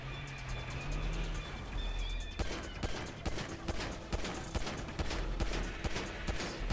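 Repeated shooting during a car battle in GTA 5 on a mountain, a steady run of sharp shots in an uneven rhythm over continuous engine and ambient noise, moderately loud and somewhat distant.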